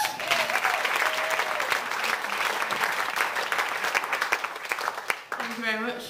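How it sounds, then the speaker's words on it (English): Folk club audience applauds two performers, dense steady clapping filling the room at close range before it fades and a voice begins to speak near the end. "So give you a round of applause to Alistair and Grace."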